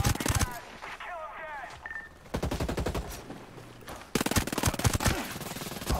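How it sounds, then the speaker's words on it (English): Rapid bursts of automatic gunfire in the tactical shooter Ghost Recon Breakpoint, loud and clustered into several volleys across the span, with a player's voice talking over parts of it. "I don't know how I just shoot him in the legs"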